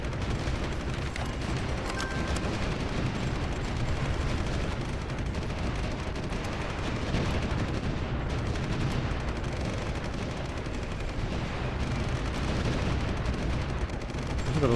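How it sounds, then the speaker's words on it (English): Artillery bombardment and gunfire roar in the war strategy game Supreme Ruler 2023, a dense, unbroken rumble of distant shelling and rattling shots that holds a constant loudness throughout. "I think they are just bombarding us so much."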